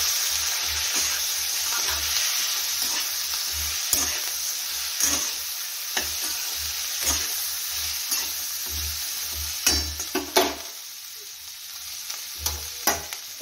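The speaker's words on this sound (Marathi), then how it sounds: "सर्व मिरच्या आपण तेलात टाकून घेऊया। तर यामध्येच आपल्याला शेंगदाणा मीठ घालायचं आहे चवीप्रमाणे। तर सर्व आपण मिक्स करून घेऊया।" Green chillies sizzle steadily in hot oil with salt and peanuts as a spoon stirs and scrapes the pan in repeated clinks, the frying hiss loud and continuous throughout.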